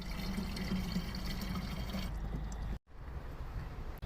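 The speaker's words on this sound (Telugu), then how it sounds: "అండ్ ఆ తర్వాత మనం స్టార్ట్ బటన్ నొక్కితే వాటర్ స్టార్ట్ అవుతుంది." A coin-operated water vending machine fills a 10-litre can with a steady, close rush of pouring water. It breaks off abruptly for a moment near the end and then resumes more quietly.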